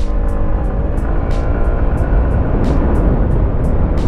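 Honda ADX 160 scooter at full throttle, a steady loud engine drone with rising harmonics held throughout under heavy wind rush, recorded close from the rider's position.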